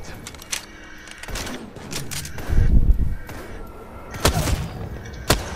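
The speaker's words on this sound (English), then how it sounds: "Someone's using a charge rifle over there." Charge rifle shots in the video game Apex Legends, a few sharp loud cracks spaced apart amid game noise, with a heavier rumbling burst in the middle.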